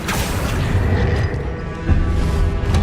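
An Incendio fire spell cast in Hogwarts Legacy, a loud, dense roaring whoosh of flame that holds steady for a few seconds with a burst near the end, no talk over it.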